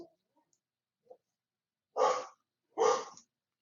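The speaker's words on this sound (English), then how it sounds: "My dog is very turned up about something." A pet dog indoors lets out two sharp, loud barks about a second apart after a few faint sounds, close to the microphone.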